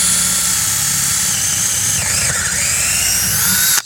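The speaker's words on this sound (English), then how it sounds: "Still drilling." A power drill grinds steadily and loudly for nearly four seconds while drilling during an oven range hood installation, a continuous high whine over a rough rumble, then cuts off abruptly.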